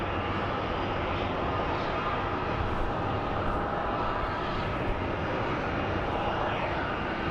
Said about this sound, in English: CRJ coming from Long Beach,